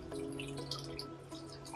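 Water trickling and dripping into a pot of South Indian okra curry (vendakkai kara kulambu), faint and close with a soft continuous pour and small splashes, no talking.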